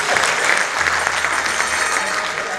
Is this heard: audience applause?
yes